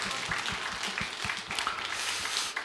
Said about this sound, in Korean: 격려하면서 박수할까요?